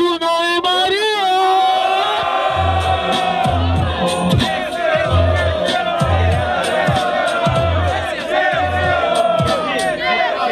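Crowd at a rap battle in São Gonçalo cheering for the rappers, a loud mass of shouting voices with a rhythmic pounding chant underneath, steady and close throughout.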